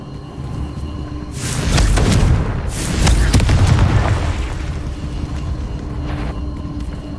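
Confringo blasting spells going off in Hogwarts Legacy, loud booming explosions rolling in two heavy swells with crackling bursts, near and forceful, under a steady ambient game bed.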